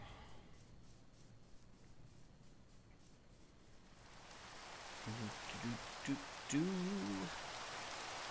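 Steady hiss of rain in Minecraft builds up halfway through, with a few faint murmured voice sounds riding over the downpour.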